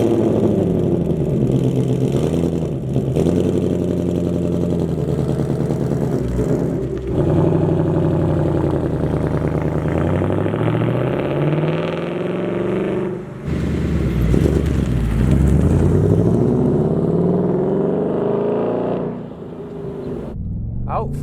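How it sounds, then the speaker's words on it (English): A 2024 Ford Mustang GT V8 being driven, a loud, deep engine note that rises and falls through revving and shifts, holding steady for long stretches with brief dips in level. "please take these lovely V8 noises as my apology"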